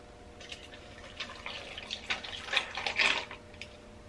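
Espresso is poured into a glass for an iced vanilla latte, a thin trickling and dripping liquid stream close by that builds for a few seconds and then tapers off, with no talking.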